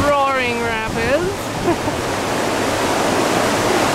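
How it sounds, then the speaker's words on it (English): Roaring river rapids along the Estes Park Riverwalk in Colorado, a loud, steady broadband rush of churning water up close, with a voice talking briefly over the torrent at the start. "There, we'll get you a little more close-up view of the roaring rapids."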